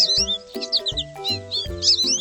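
A small pink sparrow chirps in a few quick, bright bursts as it flies out of a little pink house, over a steady tinkling musical backdrop.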